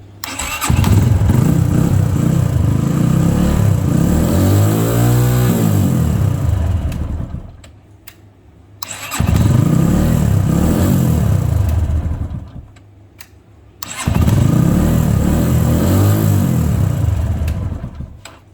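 A motorcycle engine is started three times in a row with its electric self-starter, each start catching into a loud, steady idle before cutting off briefly.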